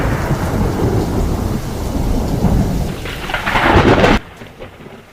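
Heavy rain pours steadily while a loud, close rumble of thunder builds, then cuts off abruptly, leaving quieter rainfall.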